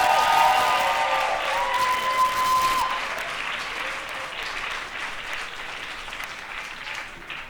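Loud, sustained applause from a large audience at a live comedy stage show, dense clapping with a few cheers that stays steady throughout before easing slightly.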